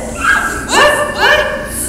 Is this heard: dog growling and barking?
yes